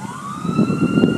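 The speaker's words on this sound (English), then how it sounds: "a fire engine going past" A fire engine siren wails past with a rising tone over street traffic rumble, fairly loud and close, lasting about a second.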